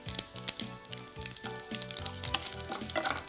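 Cumin, fenugreek and a broken red chilli crackle and sizzle in hot oil, a steady close frying hiss with rhythmic stirring or spatula scrapes and light pops throughout, no voices.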